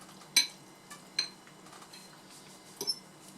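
Metal utensils stirring a pot of cholent stew give a few faint, sparse clinks and scrapes at close range, with quiet pauses between them.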